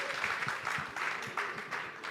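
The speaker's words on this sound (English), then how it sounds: "Please, clap, clap, clap." Audience clapping in a hall at an edtech demo day, a steady wash of applause with rhythmic swells, moderately close and sustained throughout without talk over it.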